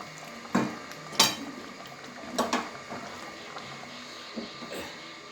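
Moong-methi curry is tipped from a cooking pan into a bowl, giving a few scattered metallic clanks and scrapes over a quiet background. No one speaks.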